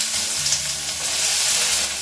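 Chopped onions frying in hot mustard oil in a home kitchen, a close, continuous crackling sizzle with no talk.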